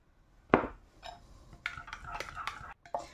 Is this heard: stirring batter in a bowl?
yes